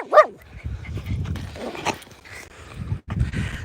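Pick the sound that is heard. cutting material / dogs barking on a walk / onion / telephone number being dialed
dogs barking on a walk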